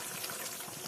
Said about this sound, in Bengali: গরম জল দিলাম আমি